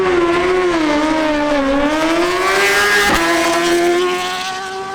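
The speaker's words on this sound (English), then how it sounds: "Andres Camargo on his Suzuki GSX-R1000 makes a solo pass" A Suzuki GSX-R1000 motorcycle screams through a solo drag racing pass, its engine loud and close with a high, sustained whine that climbs through the gears, a sharp gear-change dip, then a fading pitch as it pulls away.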